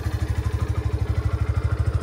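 A Yamaha FZS-V3 motorcycle with 32,000 km on it idles after being started, a close, steady low thumping pulse with fast, even firing beats and light mechanical clatter.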